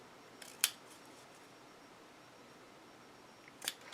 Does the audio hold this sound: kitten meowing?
no